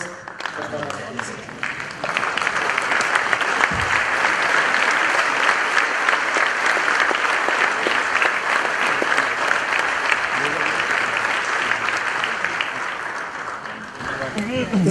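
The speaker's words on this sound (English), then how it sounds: "So, can we have a standing applause for Pranav" A standing audience applauds Pranav Mistry at a felicitation during a Vidyamandir school function; loud, continuous clapping swells after a brief start, holds steady, and thins slightly near the end.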